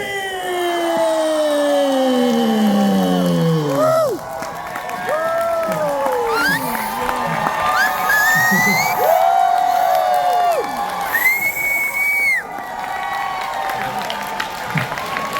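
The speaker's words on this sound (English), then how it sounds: "let's keep that applause going" A fan convention crowd cheers and applauds for Jamie Kennedy: loud, continuous clapping mixed with rising whoops, shrill whistles and shouted calls that swell and break off in waves.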